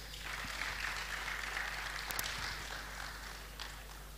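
Audience at a government and tech summit gives a faint, steady round of applause, soft patter of many hands at a distance with no voices over it.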